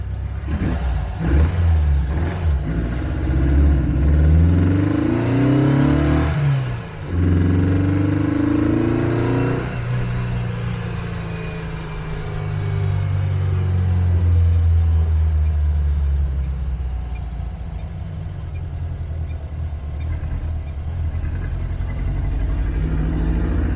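A 1958 car engine being tuned for fuel injection revs up and down hard several times, loud and close, then its revs drop away to a low, rumbling idle.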